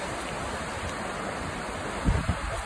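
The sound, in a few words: Latourell Falls waterfall, Columbia River Gorge, Oregon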